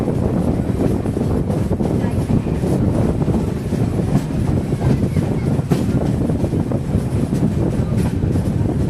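Sawantwadi–Diva Express running along its route, a steady loud rumble of the moving carriages with wind buffeting throughout, heard from on board.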